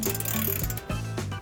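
Ratchet loosening the upper ball joint on a Ford F-150 during a front lift kit install, a fast run of clicking strokes in three close bursts split by short pauses.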